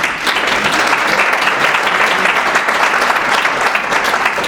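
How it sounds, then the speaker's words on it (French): Steady, loud audience applause at a women's entrepreneurship event, a dense wash of many hands clapping continuously and close, with no speech over it. "Tony, que l'on peut applaudir."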